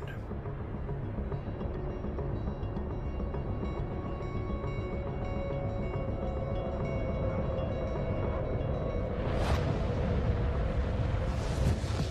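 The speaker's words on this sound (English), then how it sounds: "this isn't just a flame growing. This is an explosion" A roaring, rumbling grease fire explosion with broadband noise throughout, swelling into sharp whooshing flare-ups near the end.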